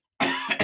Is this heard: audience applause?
no